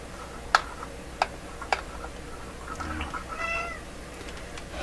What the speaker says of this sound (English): I'm gonna go and deal with my cat